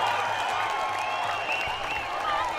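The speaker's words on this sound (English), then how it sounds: "The crowd have gone crazy here at Navy, but there is no try." Crowd at a rugby league match between Navy SC and Kandy SC cheering and clapping after a disallowed try, a dense continuous roar of voices and applause throughout at fairly high level.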